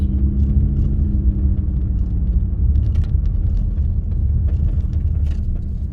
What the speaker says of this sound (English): My truck making the noise, so I'm trying to see if it's the tire